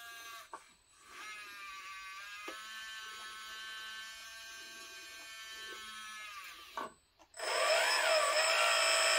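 Hydraulic pump whining steadily inside a 1/14 Tamiya Grand Hauler tri-drive RC dump truck, running at low speed, close and continuous, then pausing briefly before surging louder and brighter near the end.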